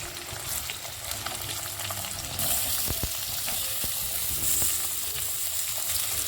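Potato pieces sizzle on a hot tawa with green chillies and curry leaves, a steady close hiss of frying with a few soft clicks as the pan is stirred. No one speaks.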